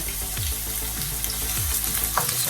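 Chopped onions hit preheated oil in a pot and sizzle steadily and loudly, with a few soft knocks of stirring in the pan throughout.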